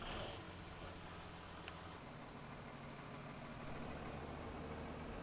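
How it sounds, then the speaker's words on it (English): A tractor engine runs in the farming game Farming Simulator 19, a steady low drone holding at an even, faint level throughout with no talking. "Okay, the engine was running."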